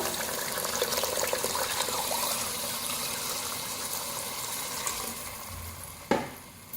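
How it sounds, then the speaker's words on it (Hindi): Water streams steadily with a broad hiss for several seconds, poured into a pot of cooking moong masoor dal, ending with a brief clink near the end. "अब इसमें पानी शामिल करेंगे।"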